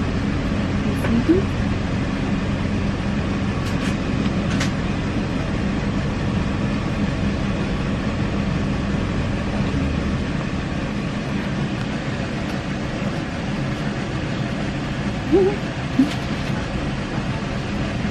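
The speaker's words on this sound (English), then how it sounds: "We're in the train." Steady rumble and hum inside a moving train, a constant low drone with occasional faint squeaks and knocks.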